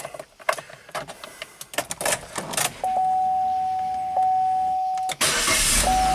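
A small car's engine cranks with a few quick rattling bursts, then starts and settles into a steady idle. A sustained electronic chime tone rings through it, and the engine revs up near the end.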